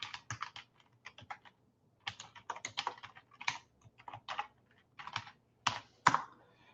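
Keystrokes on a computer keyboard as a username and password are entered, fast uneven bursts of close clicky taps separated by short pauses, with no voices.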